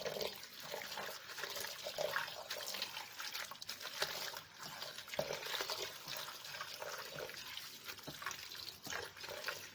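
Faint, continuous water trickling and sloshing as mint leaves are rinsed in vinegar water in a home kitchen, steady throughout with no voices.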